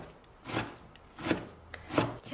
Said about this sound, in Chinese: 再把菠菜我们充分的挤干水分，再用刀尽可能的把它给切碎。